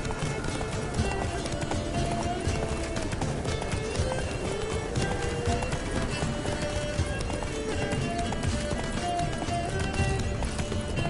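Steady rhythmic hoofbeats of a galloping horse in The Witcher video game, continuous and driving over a busy game soundscape with music-like tones.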